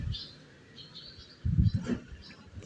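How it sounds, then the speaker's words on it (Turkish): Small songbirds eating bulgur at a cat shelter feeding spot give faint, high chirps and brief calls, with a low thump and rustle partway through. "Güzel öten kuşlar da bunlar bak."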